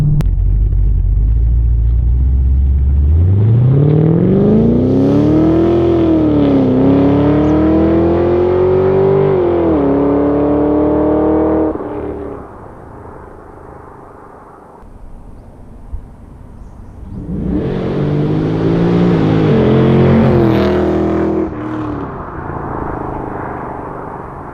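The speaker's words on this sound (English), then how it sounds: "I didn't give the car full beans, I just eased into the throttle" A Holden Caprice with a loud aftermarket exhaust accelerates near and loud, its engine note climbing through a gear change, then easing off before a second rising pull.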